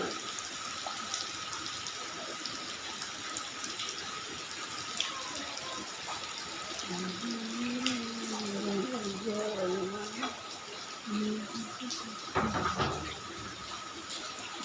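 Steady heavy rain pours and splashes continuously, with a voice talking briefly partway through.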